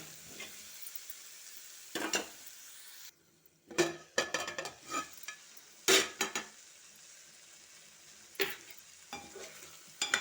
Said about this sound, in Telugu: వీటిని సన్న సెగ మీద ఒక 5 నిమిషాలు మగ్గనివ్వాలి.